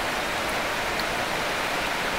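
Steady rain pouring down in a rural Thai setting, a dense continuous hiss of falling water with no let-up, fairly loud and close, with no voices.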